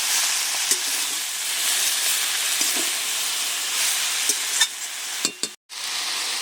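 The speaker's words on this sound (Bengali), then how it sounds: "সব শাকটাই দিয়ে দিয়েছি, ভালোভাবে নেড়ে চেড়ে নিচ্ছি।" Leafy greens sizzle and hiss in a hot pan while being stirred, a steady bright frying sound broken by a few soft scraping knocks and a short pause near the end, no talking.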